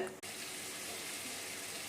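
Water splashes and hisses steadily into a hot pan of simmering Tamil eggplant kuzhambu (tamarind curry), a continuous close-up pour lasting a couple of seconds.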